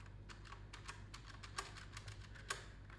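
Quick bursts of typing on a Cherry MX Brown mechanical keyboard, crisp clacky keystrokes in an uneven rhythm, close and fairly quiet with no talking.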